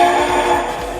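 A Lionel NYC Pacemaker 2-4-2 model steam locomotive sounds its whistle in a steady, sustained tone, fairly loud and close, with no talking.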